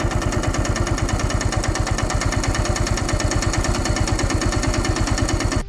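Faulty motorcycle engine idles in first gear after refuelling, losing power, running loud and close with a rapid, steady, slightly uneven knocking putter that holds throughout.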